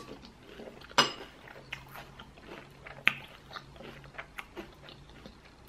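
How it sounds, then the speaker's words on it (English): Breakfast cereal being eaten at home with a spoon: soft crunching and chewing with occasional sharp clinks of the spoon against the bowl, close and fairly quiet, with no talking. "I am just having some cereal."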